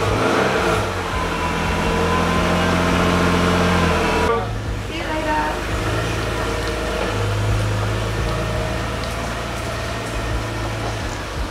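A sold BMW car pulls away, its engine note rising and settling as it drives off, steady mid-level rumble with a brief shift partway, while people talk nearby.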